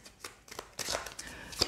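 A deck of oracle cards shuffled close by, with quick papery riffles and flicks in short irregular bursts and a soft tap at the end, alone and fairly quiet.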